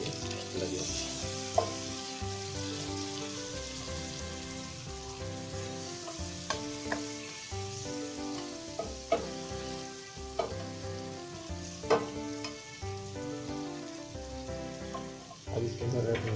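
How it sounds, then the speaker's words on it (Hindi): Goat chops frying with ground chili and garam masala in a pan, a steady close sizzle broken by regular scraping and clinking strokes of a spoon stirring, no talk. "अब इसके अंदर हम पिसी हुई मिर्ची डालेंगे और चमचा थोड़ा सा चलाएंगे"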